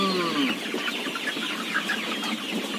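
A flock of chickens clucking and chattering together, steady and fairly close, with busy overlapping calls and no talking.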